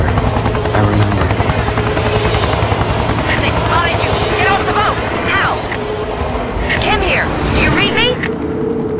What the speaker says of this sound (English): The helicopter. I remember.